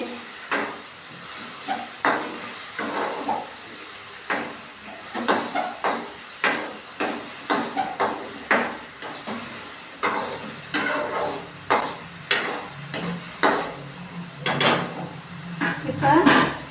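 Salt being stirred into pasta sauce in a pan, a spoon scraping and knocking in a repeated rhythm of distinct clinks and scrapes close by, with a soft sizzle and some talk underneath.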